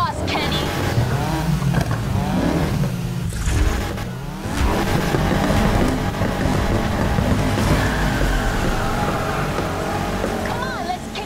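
Game car engine from Need for Speed Heat revving and roaring continuously at close range, with tire noise. Voices talk over the engine throughout.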